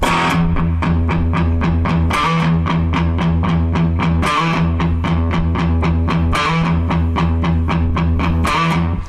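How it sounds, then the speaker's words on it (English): A loud, heavily distorted electric guitar chugs a repeating riff in a steady driving rhythm, with brighter accented strums recurring every couple of seconds. "They turn the distortion on and it goes like this."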